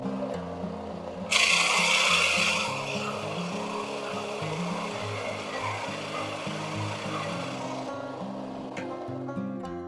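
A RIDGID EB4424 oscillating edge/belt spindle sander runs steadily with a constant motor whir. A harsher, louder burst of sanding rises briefly early on and then settles back into the even hum.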